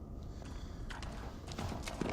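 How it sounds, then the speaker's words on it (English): Horses in Silent Hill 2's Toluca Prison clip-clop in a steady, muffled rhythm of hoof beats under a dense, noisy background. "You hear the horses?"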